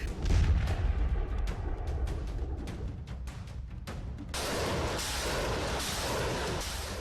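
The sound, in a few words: Russian army tank cannon fire shelling enemy fort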